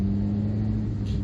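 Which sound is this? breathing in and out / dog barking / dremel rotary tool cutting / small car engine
small car engine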